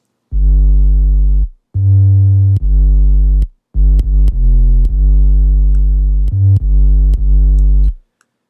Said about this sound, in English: classic hip-hop 808 sound.